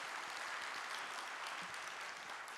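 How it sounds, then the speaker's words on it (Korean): A church congregation claps together at a Sunday afternoon service, a faint, steady wash of applause heard from a distance with no voices. "하나님께 영광의 박수 올려드리겠습니다"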